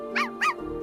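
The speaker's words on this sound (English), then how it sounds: "Or maybe Mary Burris is barking" Two quick high-pitched cartoon barks from a small dog character in the Cookie Run: Kingdom game, close and clear over a steady musical drone.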